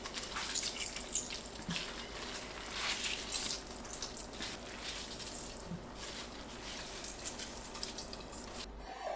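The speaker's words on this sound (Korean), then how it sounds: "면보자기에 두부 넣고 물기를 짭니다." Tofu being wrung out in a cotton cheesecloth, with water dripping and trickling steadily into a bowl or sink at close range, soft wet squishes throughout and no talking.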